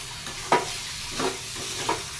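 Amaranth leaves, drumsticks and tomato fry in a pan. Three brief spatula stirs scrape through a continuous soft sizzle, close by.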